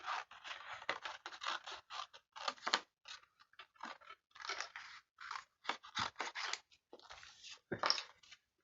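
Scissors snip through paper around printed wording in a rapid series of short, close crisp cuts and crunches, broken by brief pauses.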